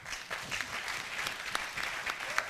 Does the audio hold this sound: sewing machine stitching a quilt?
no